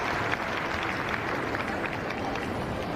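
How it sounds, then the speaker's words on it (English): Crowd applauding at an outdoor show-jumping arena after a young horse's round: steady, dense clapping from many spectators at moderate distance, sustained throughout without a break. "you can hear the crowd acknowledge that"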